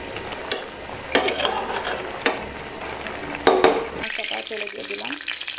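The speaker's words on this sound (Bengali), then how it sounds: "এখন একটু নেড়ে দিব।" Kebab-spiced food is stirred in a pan over a soft constant sizzle, with scattered sharp scrapes and clinks of the utensil, then the sizzle changes abruptly as oil goes in.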